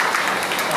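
Dense applause from a crowd at a Congress party political rally in Maharashtra, a brief steady burst of clapping at moderate loudness with no break.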